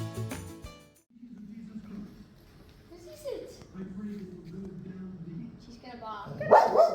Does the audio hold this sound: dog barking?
yes